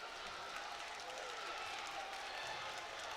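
Basketball crowd at Hope Fieldhouse during a women's college game, a steady dense roar of cheering and applause filling the arena, loud and continuous throughout.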